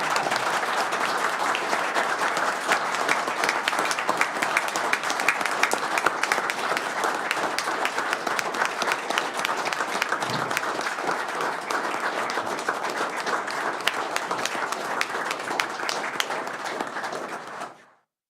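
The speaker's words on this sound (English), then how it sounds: "Can you all rise and please extend your applause to the esteemed" Audience at a Valemount village council meeting gives a standing ovation, sustained dense clapping from many people lasting well over fifteen seconds before tapering off abruptly, with no speech on top.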